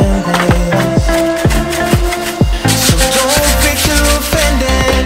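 Pallet wood is sanded by hand with rhythmic rubbing strokes for a sofa build, steady and close, over a backdrop of tonal music with a regular beat.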